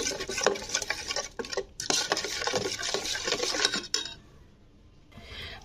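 Katla fish roe is mixed with turmeric powder in a bowl, with wet squelching, stirring and scraping of utensil against the dish in a busy continuous rhythm that thins out near the end.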